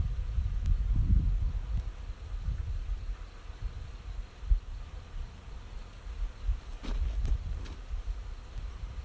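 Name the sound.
bees buzzing at an opened beehive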